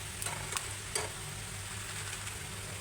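Homemade potato papad chips frying in oil give a soft, steady sizzling hiss, faint and continuous, with a few light ticks near the start and no voices.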